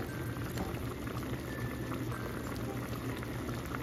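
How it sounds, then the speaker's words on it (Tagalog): Fish and sauce bubbling in a covered pan during a bangus steak recipe, a steady, continuous simmering boil with dense small pops and crackles, close and even throughout, with no talking. "Pakuluan natin sila ng mga 2 to 4 minutes."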